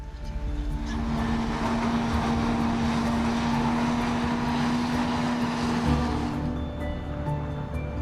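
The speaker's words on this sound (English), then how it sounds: "the sound of the helicopter blades roaring in our ears" Helicopter rotor noise roars steadily and close, a broad sustained rumble with a strong low drone, over the plains of Arkansas during an aerial wild boar hunt; it eases slightly near the end.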